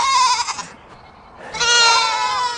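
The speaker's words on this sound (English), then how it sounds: "Goats are crying everywhere." Goats on a farm pasture bleating loudly, several overlapping cries with a brief lull in the middle before another strong chorus of bleats.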